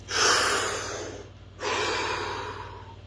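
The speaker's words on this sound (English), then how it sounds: "Another deep breath." A slow, deep breath drawn in through the nose and mouth, close and breathy, followed after a brief pause by a long, soft exhale, with no talking.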